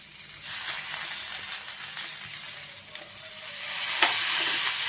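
Ginger paste added to a hot pan of vegetables for Bengali shukto, a close, crackling sizzle with stirring scrapes that swells louder in the last second or so.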